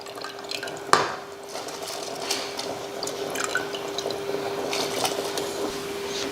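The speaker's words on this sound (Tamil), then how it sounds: "இந்த டைமில் நம்ம அரிசி போட்டுடலாம்" Soaked basmati rice tipped into boiling water in a metal pot, with a sharp splash and clatter followed by a steady low bubbling simmer.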